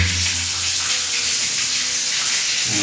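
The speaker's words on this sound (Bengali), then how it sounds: "দুটো দিয়ে পানি আসছে," Water gushes steadily from two taps at once, making a continuous, fairly loud rushing splash that hardly changes for the whole stretch.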